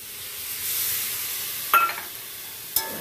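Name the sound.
cauliflower curry being sautéed in a pan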